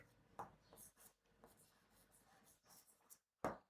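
Chalk or marker taps and scratches on a classroom board in short strokes, close and fairly quiet, ending with a sharper knock.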